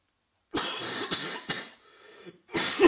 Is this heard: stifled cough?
yes